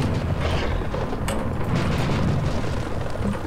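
Continuous heavy rumbling with dense low booms and a sharper crack near the middle, cannon fire in Serious Sam HD: The First Encounter, loud throughout.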